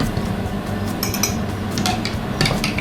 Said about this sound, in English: Give that a good whisk.